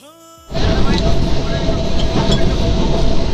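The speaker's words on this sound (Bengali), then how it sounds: "গ্রাম্য পরিবেশের ওপর দিয়ে ট্রেনটা যাচ্ছে।" A train from Sealdah runs through the countryside in the early morning, a loud, continuous rumbling roar with rattling that starts abruptly after a brief tonal sound and carries on steadily.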